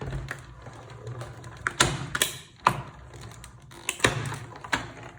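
A manual die-cutting machine ratchets and clicks as paper and a top plate are cranked through, the mechanical clatter coming in uneven close bursts with brief pauses.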